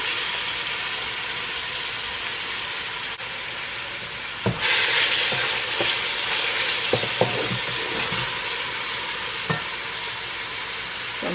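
Saltfish fries in a pan with ackee for a Jamaican patty filling, a soft continuous sizzle that grows brighter midway, with a few sharp utensil knocks against the pan.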